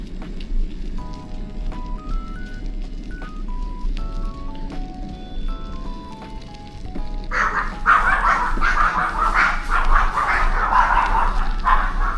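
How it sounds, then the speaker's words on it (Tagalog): Large dogs bark loudly at close range in a burst of repeated deep barks, following a stretch of melodic tones, with no talking. "Big na big yung mga aso niya eh."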